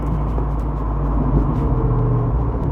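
A Jeep Wrangler Rubicon 392 with a Hemi V8 accelerating, heard from inside the cabin as a steady, loud low engine rumble with road noise and no voices.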